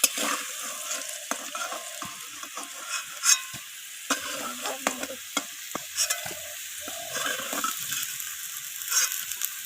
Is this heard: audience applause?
no